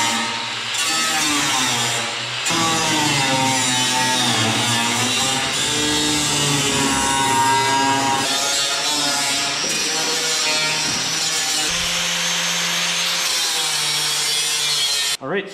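Power tool cutting and trimming the rear wheel arch of a 1994–2002 Dodge truck, a loud continuous grinding, buzzing cut that wavers in pitch as it works through the metal for the whole stretch.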